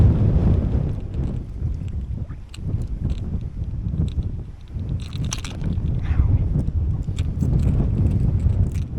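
Strong wind buffeting the microphone on a shoreline during a nor'easter while fishing for stripers, a steady low rumbling roar with gusts that swell and fade throughout.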